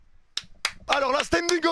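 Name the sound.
person clapping in applause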